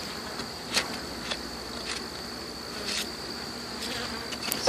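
Bees buzzing around a beehive in late summer, a steady close drone with individual insects zipping past the microphone now and then, continuous and alone with no voices.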